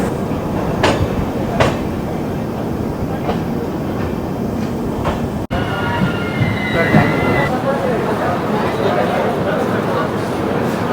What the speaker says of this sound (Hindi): तो फिलहाल 32 मिनट्स रुकने के बाद हम लोग डिपार्ट कर रहे हैं आद्रा जंक्शन।